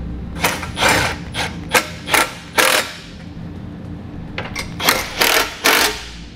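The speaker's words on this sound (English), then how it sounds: "We're going to come back with that same 13 millimeter socket and just snug up our hardware" Ratchet socket wrench with a 13 mm socket snugging hitch hardware on a 2017 Volkswagen Golf, heard as two separate runs of quick, close, sharp ratcheting clicks with a pause between them.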